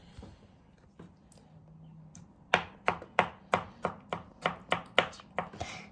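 A knife chops through soft bread and small cakes on a board, with a few light taps followed by about a dozen crisp, evenly spaced cuts close by.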